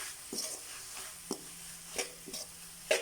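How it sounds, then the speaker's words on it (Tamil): Koththu chapathi is stirred and tossed in a hot pan, with a soft background sizzle broken by a few scattered scraping clinks of the utensil against the pan. "நல்லா கிளறி விடணும்"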